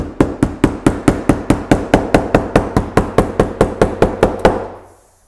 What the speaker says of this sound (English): just take your hammer, take your mallet,